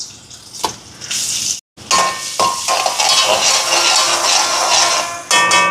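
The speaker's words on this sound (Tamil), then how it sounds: "உள்ளி வெள்ளைப்பூடை இந்த மாதிரி குட்டி குட்டியாக வெட்டி வச்சுருக்கிறேன். அதை சேர்ப்போம். அது கொஞ்சம் பொரிஞ்சு வரட்டுக்கும்." Finely chopped garlic hits hot coconut oil for a Sri Lankan veg bun filling, bursting into a loud, dense sizzle with a few sharp clatters of pan and utensil and a brief drop to silence early on.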